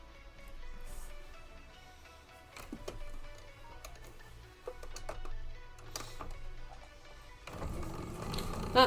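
A sewing machine stitches quilted fabric pieces together for a table runner, giving a soft, quiet mechanical whir with intermittent clicks and ticks and some handling noise.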